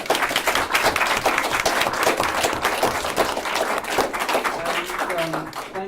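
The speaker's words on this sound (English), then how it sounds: "I was going to give a round of applause to our amazing panel" A crowd gives a panel a round of applause, steady, dense clapping throughout, with a few voices mixed in toward the end.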